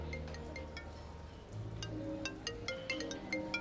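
A phone ringtone chimes in short repeating bursts over the clatter and murmur of a busy dining room.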